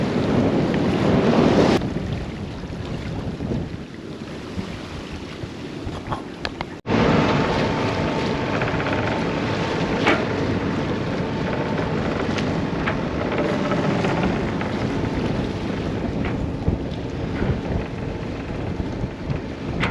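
Sailboat beating upwind toward Put-in-Bay at about six knots, with steady loud wind rush and water noise throughout, a brief dip partway through, then continuous buffeting wind and hull wash.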